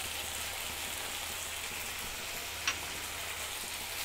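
Steady, even sizzle of bhindi masala frying in a pan as spices are stirred in, a soft constant hiss with one brief scrape near the end and no talking.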